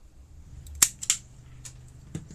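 Pruning shears trim a wild Chickasaw plum cutting: two crisp, close snips in quick succession, then a fainter clip a moment later, with quiet background between.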